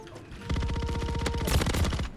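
Rapid sustained automatic fire from a RAM-9 (Tavor) submachine gun in Call of Duty: Modern Warfare, a loud close burst of evenly spaced shots lasting about two seconds with no talking.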